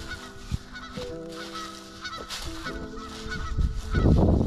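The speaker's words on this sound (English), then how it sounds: "Got some geese ahead." Geese on the bank of the Baraboo River honk repeatedly in short nasal calls, several birds overlapping at moderate distance, ending in a louder rustle of wings or movement nearby.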